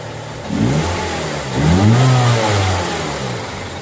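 The engine of a Ford Escape with a hard-starting fault revs up twice close by, each rise climbing and falling back over a continuous running rumble.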